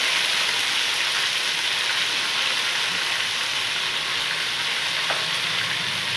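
Cumin paste frying in a hot pan, a dense, continuous sizzle like hiss that holds steady and close with no voices.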